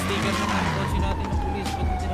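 A police siren in a roleplay video game wails loud and close, its tone sliding slowly downward over a rumble of other game noise.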